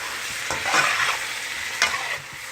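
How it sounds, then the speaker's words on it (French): A seafood sauce with salmon pieces and shrimp simmers in a pan under a soft sizzle while a spoon gives two or three brief, gentle stirring scrapes, close by and with no talking. "On brasse un peu, juste un coup, pas trop, hein, parce que je ne veux pas écraser mes morceaux de saumon."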